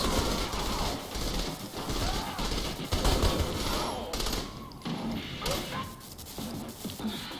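In the video game Saints Row: The Third, bursts of rapid gunfire and scattered shots crackle continuously amid a noisy, chaotic soundscape, fairly loud throughout.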